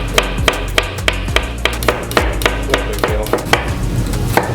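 A knife slices four purple garlic cloves thinly on a cutting board, making a steady series of sharp, close chopping taps in a regular rhythm.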